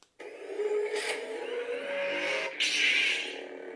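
A Darth Vader lightsaber by SuperNeox fires its cross ignition effect, snapping on with a crackling surge into a steady buzzing hum, then a second bright flare of sizzling static partway through, loud and alone without talk.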